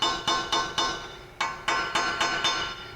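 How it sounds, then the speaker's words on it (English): Sharp metallic chisel strikes knocking the cap off a 1999-2011 Chevrolet Silverado front CV axle shaft, eight close ringing taps in an uneven rhythm with a short pause midway. "use a little chisel, and you can just kind of hit it"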